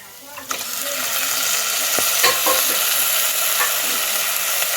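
Half a kilo of chicken for Pallipalayam chicken fry sizzles steadily in a pan while being stirred, with a few scrape and clatter knocks from the utensil over a constant frying hiss.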